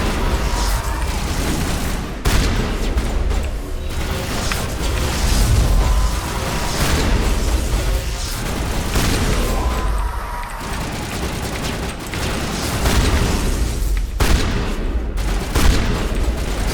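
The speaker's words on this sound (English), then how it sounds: "Actually, why don't I have some fun? Shotgun time!" Shotgun blasts and heavy combat booms from the sci-fi shooter Mass Effect, fired against zombie-like husks; loud, dense bursts with repeated sharp thumps over about seventeen seconds of continuous battle noise.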